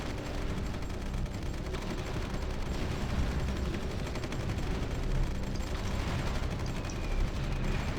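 Dense, continuous gunfire and booming cannon fire from a large tank battle with T-90 and T-72 tanks in the strategy game Supreme Ruler 2030, a steady unbroken roar of shots and explosions with no talking.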